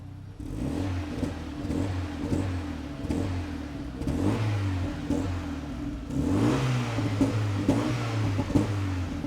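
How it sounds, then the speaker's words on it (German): Sports car engine in sport mode revving repeatedly with light throttle blips, rising and falling engine tones with a rough exhaust edge at moderate distance, no voices. "Wenn du im Sportmodus bist und einfach das Gas antippst, dann ploppt es hinten raus."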